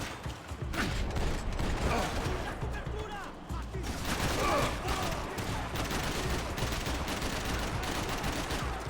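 Rapid automatic AK-47 fire in the video game Max Payne 3, dense and continuous for the whole stretch with mechanical clatter, while someone talks over it.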